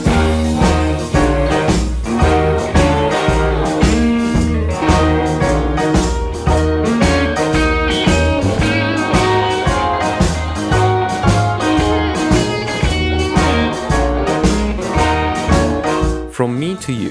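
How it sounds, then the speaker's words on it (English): Harmonica riff from a song plays with a full blues band, loud and rhythmic with repeated phrases over driving bass and drums for the whole stretch. "The harmonica riff sounds like this."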